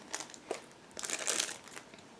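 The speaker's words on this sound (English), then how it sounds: "This one is packed into the separate plastic bag, so just give me a second to open it." Thin plastic bag holding IBG Models 1/35 Chevrolet C30A General Service kit parts being opened, a quick run of close crinkles and rustles in short bursts.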